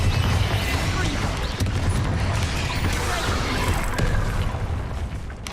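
Loud, continuous rumbling blasts from Bombarda spells cast in Hogwarts Legacy on hard mode, heavy low booms and crashes overlapping one another with a speaking voice mixed in.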